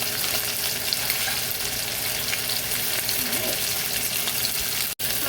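Teriyaki chicken pieces searing in a frying pan, a steady, loud hiss and crackle of hot oil up close, continuous throughout with a brief dropout near the end.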